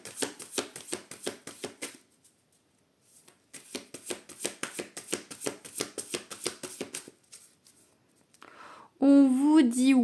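Tarot cards being cut and handled, giving a fast series of crisp, close clicking slaps that pause briefly and then resume, followed by someone speaking.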